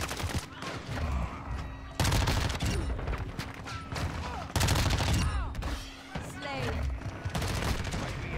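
Rapid gunfire and shotgun blasts fill a Modern Warfare 2 multiplayer match in dense, loud bursts with booming gaps between them, while a player talks over the fighting.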